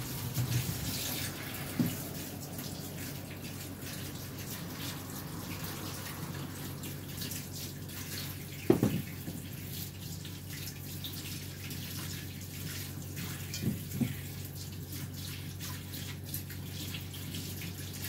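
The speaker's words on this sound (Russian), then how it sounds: "Я картошку мою." Tap water runs quietly and steadily into a sink while potatoes are washed, with a few faint knocks and clunks.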